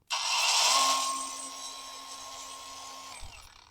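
A Masaru SCG605 4-inch cordless angle grinder on its second speed setting whirs up quickly to a high, steady whine with a thin tonal hum underneath, gradually softening before switching off near the end.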